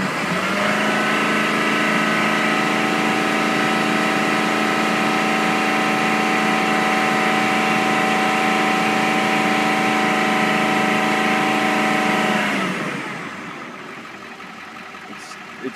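A Ford Powerstroke diesel engine with a fuel restriction is held at raised revs for about twelve seconds, a loud steady drone with constant tones, before dropping back to a quieter idle near the end.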